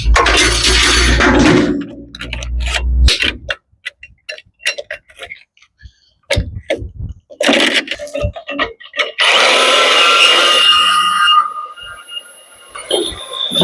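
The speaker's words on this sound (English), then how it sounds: "Milwaukee, or these corded bandsaws are good to have, but goddamn, they don't cut straight worth a motherfucker." Corded Milwaukee bandsaw cutting through material, a loud rough buzzing cut at the start, then scattered clicks and knocks, then more buzzing cutting passes, with no talking.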